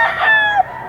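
A silver gray stag rooster lets out a short, loud, close crow that ends abruptly, with no talk over it.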